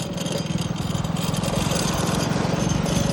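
A rattling vehicle engine running on the road between Vellore and Amarthi, a steady rapid pulsing chug with a loose, clattering edge, close and continuous throughout.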